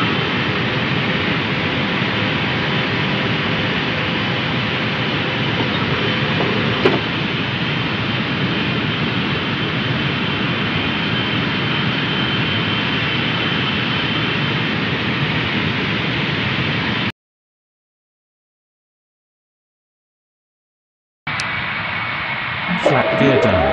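Simulated Boeing 777-300ER jet engines roar steadily through a takeoff in Real Flight Simulator, a loud broadband rumble with brief cockpit callouts spoken over it, cutting to silence before the noise resumes.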